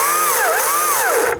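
A battery-powered Stihl chainsaw runs close and loud with a steady electric whine whose pitch dips and rises twice as the motor is revved, then cuts off at the end.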